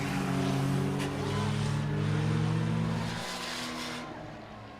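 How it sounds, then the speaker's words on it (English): Race cars in a Langley Speedway enduro roar past with layered engine drones that shift and fade as the pack moves away, loud and continuous. "that 12 car, man, he spends more time sideways than he does going straight, Sammy."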